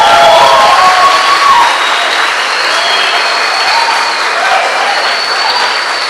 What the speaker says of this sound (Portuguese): com aplauso.